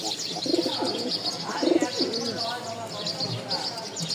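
Rajshahi Giribaz pigeons for sale give soft, throaty coos in short repeated bursts, close by, with someone talking over them throughout.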